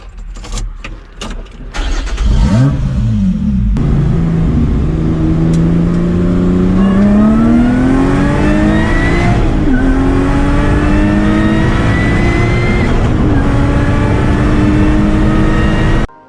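A British car with a 345-horsepower V6 engine in the Need for Speed racing game starts up and accelerates hard, its loud, close engine note rising steadily through the gears and sustained at full throttle.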